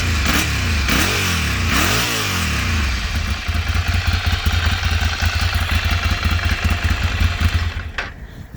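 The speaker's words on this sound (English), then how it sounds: "It sounds quite nice even with the standard exhaust on it." A 2008 Ducati 696 motorcycle on its standard exhaust revs up near the listener, with rising and falling throttle blips early on, then a steady, strong idle rumble that cuts off at the end.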